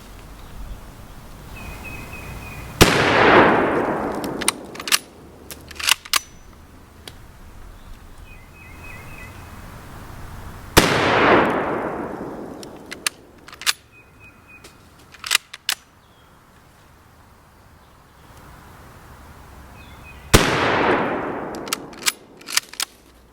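Three loud, sharp 7.62x54R rifle reports from Czech training ammo fired at cast iron and lead plates, spaced several seconds apart, each with a long outdoor echo tail and brief metallic clinks and clatter between shots.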